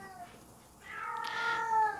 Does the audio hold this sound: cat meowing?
yes